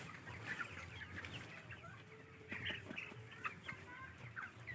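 Many chickens at a chicken farm of about 7,000 birds cluck and murmur continuously in a busy, overlapping chorus, fairly close, with soft background noise and no talk.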